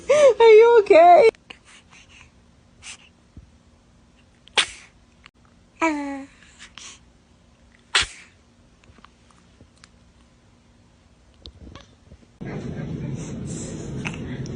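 A baby sneezes in short, sharp bursts separated by quiet pauses, with a few soft whimpers and babbles in between. Close and clear, ending in a louder stretch of background noise.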